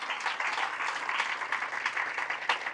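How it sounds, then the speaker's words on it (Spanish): Steady applause from a church congregation during Mass, dense and continuous clapping that fills the room for a few seconds with no voices. "Fuertes aplausos a la palabra del Señor."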